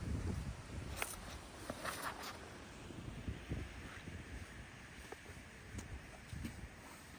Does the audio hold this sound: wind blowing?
yes